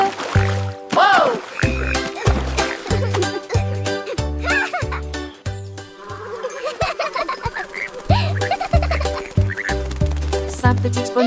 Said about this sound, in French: Puis ils coassèrent une chanson et la nuit devint grise.